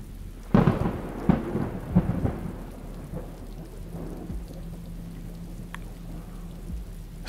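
Rain falls steadily while several close, sharp thunder cracks hit in quick succession near the start, then the storm settles into a softer rumbling patter with a low distant roll fading under the rain.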